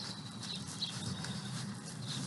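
Several horses walking in a line on a ranch, their hooves clip-clopping in a steady, overlapping rhythm at moderate distance over constant outdoor background noise.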